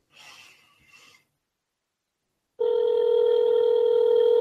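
A phone call to a U.S. senator's office connects. Faint handling noise comes first, then silence, then a loud, steady electronic tone starts and holds to the end.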